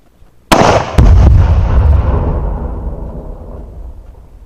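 A Swiss K-31 rifle is fired at a binary explosive target outdoors, producing a sharp report followed at once by a loud booming detonation that rolls and echoes away over several seconds.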